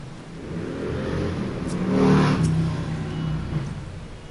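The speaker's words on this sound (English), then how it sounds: "That motorcycle was so loud it made the car alarm go off." A loud motorcycle passes within a video game, its engine rising to a peak mid-clip and then fading, with a steady low rumble and no talking.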